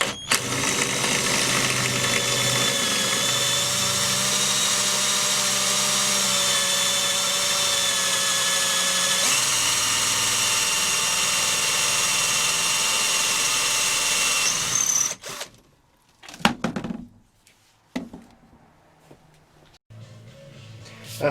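Power drill boring into the tops of stuck screws in a wooden bureau, a loud steady whine running for about fifteen seconds, then a few short bursts separated by quiet gaps.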